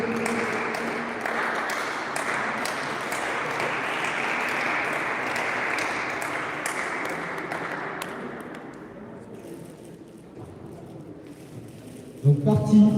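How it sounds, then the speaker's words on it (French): Spectators applaud the players at a national circuit match, with steady clapping that carries for several seconds and then fades out, followed by a few sharp, close knocks at the end. "on peut les applaudir"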